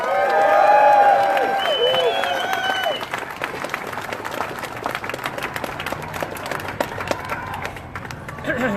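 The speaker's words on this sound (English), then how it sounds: "a big round of applause for Sydney Watson!" A crowd at a livestreamed rally breaks into applause and cheering, loud at first and then settling into steady clapping as a voice carries over the crowd.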